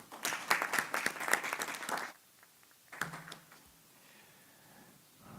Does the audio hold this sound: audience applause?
yes